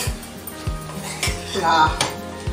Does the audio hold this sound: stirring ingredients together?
yes